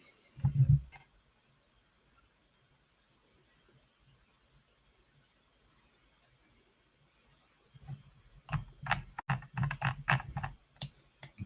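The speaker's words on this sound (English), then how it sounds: "Typing some stuff up." Typing on a computer keyboard: a short burst of key clicks, a long quiet pause, then a steady run of close, crisp keystrokes that continues to the end.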